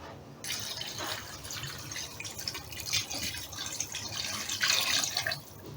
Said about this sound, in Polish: Zalewamy wodą tak, aby przykryło mięso.